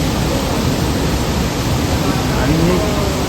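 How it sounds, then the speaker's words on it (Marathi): A steady, dense roar of falling water fills the whole moment at the waterfall by Kondeshwar temple in Badlapur, Maharashtra. It stays loud, close and unbroken throughout. "हा बघा तो वॉटरफॉल आहे, तो वॉटरफॉल"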